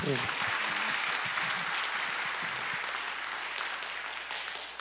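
An audience at a Korean forum on anti-discrimination law claps together, a steady rush of applause that gradually fades, with a voice speaking briefly over its start.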